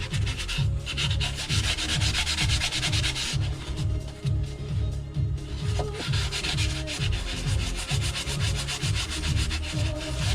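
Steady rhythmic rubbing of fine grit sandpaper across a surface in an insulation shop, close and loud, with even back-and-forth strokes and no talking.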